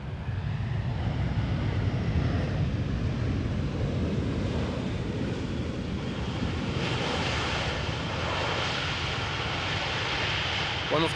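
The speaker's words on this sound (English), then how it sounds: "One of the Global X2Es has just landed." Airliner landing at Amsterdam Schiphol Airport, a loud continuous engine roar with wind rush, rising to a brighter whine near the end.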